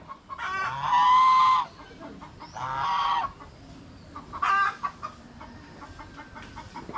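Chickens, including a rooster, cluck and squawk close by in a few loud bursts with quieter clucking and rustling between them, no talk.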